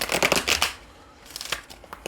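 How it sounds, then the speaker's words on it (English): Tarot cards being shuffled by hand, a quick run of crisp riffling flutters, then a pause and a few softer scattered card flicks close by, fairly quiet. "here's our last shuffle"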